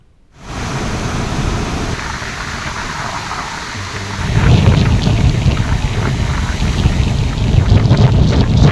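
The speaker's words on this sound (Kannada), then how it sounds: "ವಿಜಯಪುರ ಜಿಲ್ಲೆಯಲ್ಲಿ ನಿರಂತರ ಮಳೆ ಅಬ್ಬರ ಮುಂದುವರೆದಿದೆ" A heavy rainstorm in Vijayapura district roars as a loud, dense wash of rain and wind. It thickens and grows louder about halfway through, with deep rumbling underneath and no voices.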